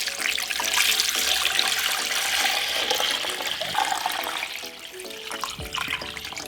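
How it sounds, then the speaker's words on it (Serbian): Cold water pours steadily into a deep cooking pot for several seconds, a bright continuous splashing rush that softens slightly toward the end, with faint clinks in the kitchen. "Sada u šerpu sipam hladnu vodu."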